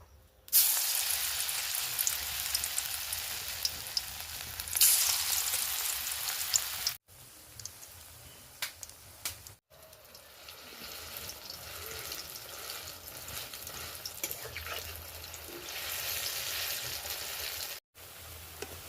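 Batter fritters with dried chillies frying in hot oil in a wok, a bright crackling sizzle that rises and falls in several bursts separated by short breaks, close and fairly clear, with no talking.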